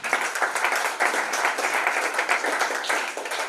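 Applause for pitch competition participants in Burundi, dense and continuous clapping from a nearby audience, holding steady for a few seconds.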